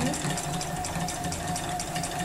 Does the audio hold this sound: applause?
no